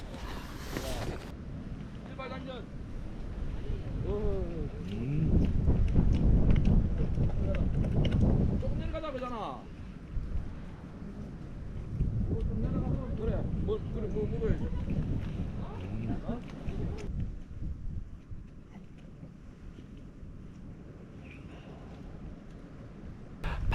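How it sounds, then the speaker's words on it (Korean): Wind gusts across the mountain summit of Daeyasan in Korea, buffeting the microphone with low, rumbling surges that rise and fall while people talk nearby. "바람만 안 불면 이렇게 따뜻한데"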